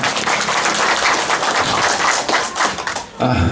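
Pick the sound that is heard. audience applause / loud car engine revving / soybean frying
audience applause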